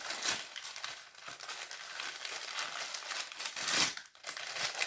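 A KFC burger being unwrapped from its paper wrapper, close up: steady crinkling and rustling of paper throughout, with a louder crumpling burst near the end.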